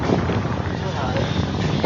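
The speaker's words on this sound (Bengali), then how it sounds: "দারুণ হাওয়া দেয় এদিকে" Strong wind rushes across a rooftop, buffeting the microphone with a constant loud, rough roar while a voice talks over it.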